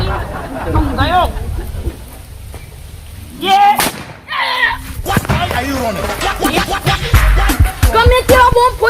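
Diwali bomb firecrackers bursting amid a festive crowd, with sharp loud bangs and crackling blasts scattered through the middle and end, heard under lively chatter and shouting voices.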